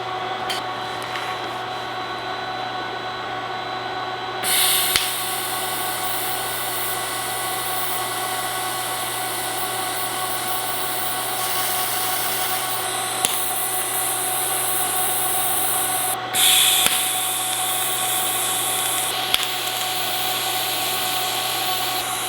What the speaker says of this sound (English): we're just trying to get tacks. We're not trying to weld this thing solid.